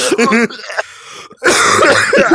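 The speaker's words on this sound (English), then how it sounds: "I have to cough" Talking breaks off for a rough throat-clearing cough, then voices resume loudly right after.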